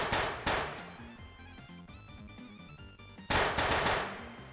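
Guns firing in a VR gun range game built in Unreal Engine 5: two quick bursts of rapid automatic fire, a gap with ringing tonal music-like echoes, then another loud burst, all close and punchy.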